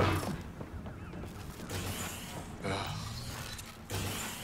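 Creaking mechanical door mechanism in the video game Mass Effect Andromeda, a grinding, groaning mechanical sound with a couple of louder surges, steady and fairly close with no talk.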